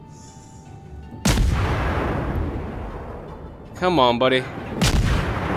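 Naval artillery in the World of Warships game: a loud booming gun blast that rolls on, then another heavy shot near the end, with someone talking briefly between them.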